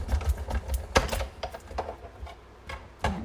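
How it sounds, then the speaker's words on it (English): Die cutting machine running a black paper poppy center through its rollers, giving a string of soft mechanical thunks and clicks at close range with no talk. "So right now I am die cutting the center of my poppy in black. I'm over here at my die cutting machine and I'm just going to run it through"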